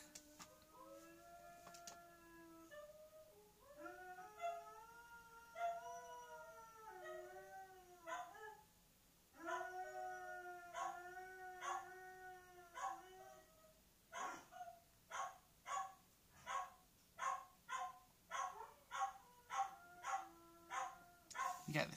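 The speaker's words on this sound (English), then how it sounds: "Forgive the dogs howling downstairs." A West Highland Terrier and a Labrador howl downstairs in long wavering tones, then break into a steady run of sharp repeated barks, fairly faint and heard from a distance.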